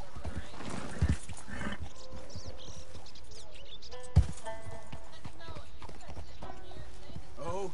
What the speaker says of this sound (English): Why is my horse freaking out?